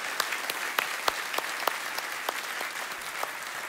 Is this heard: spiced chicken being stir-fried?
no